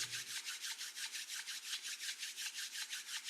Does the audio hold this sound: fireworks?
no